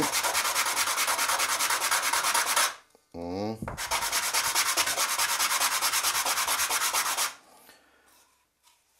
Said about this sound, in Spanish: lijarlo un poquillo para quitarle la, la rebaba que queda siempre